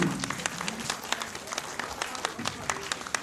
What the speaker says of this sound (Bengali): ডেকে নেব এক জোরে হাততালি